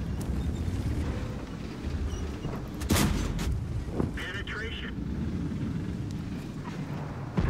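Tank cannon shot and shell penetration in World of Tanks, a sharp, loud blast followed by a second impact crack over a steady wind-like engine rumble, with a metallic ring and another hit toward the end.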